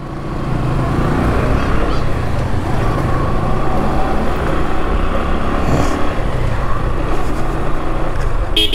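A motorbike overtakes a vehicle on a cold night ride from Mohipur bridge toward Rangpur, with constant loud engine and wind rush throughout and no clear talk.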